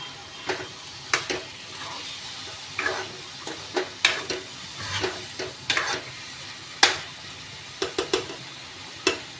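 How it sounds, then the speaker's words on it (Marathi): Marinated pomfret fish fries in a pan while being stirred, with sharp intermittent scrapes and clicks of the utensil over a steady low sizzle; no one speaks. "पण मॅरिनेट करून ठेवलेले जे पॉपलेट आहे ते घालायचे"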